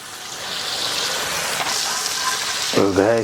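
Shallots fry in a pan of oil, a steady, close sizzle with bubbling, and a voice talks briefly near the end.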